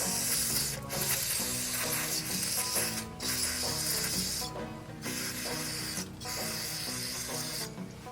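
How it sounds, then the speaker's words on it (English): Brake cleaner sprayed from an aerosol can during transmission seal repair work, loud hissing bursts broken by short pauses, close up, with no talking. "let me get some spray. I'll use some brake cleaner."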